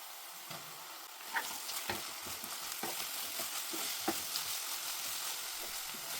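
Ground paste frying in a pan for ithkibele chitranna, a soft steady sizzle broken by a few spatula scrapes and knocks, close and with no talking.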